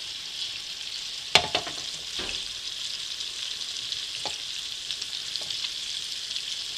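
Filet medallions sear in a hot pan with fresh rosemary, a steady close sizzle and crackle broken by a few sharp pops and scrapes as the pieces are moved around, with no talking.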